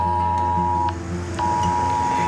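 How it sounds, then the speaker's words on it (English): Phone emergency alert tone for a missing person: a loud, steady electronic tone held across the whole clip, with a short dip in the middle and no voices. "Have you ever heard this sound or alert coming from your phone?"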